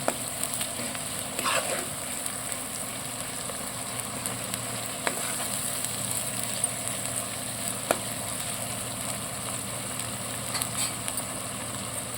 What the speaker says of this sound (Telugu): అల్లం బాగా వేగాలండి లేదంటే పచ్చివాసన వస్తుంది